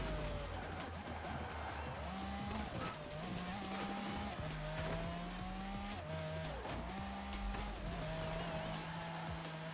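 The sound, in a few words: Pagani Zonda R racing in video game Forza Horizon 4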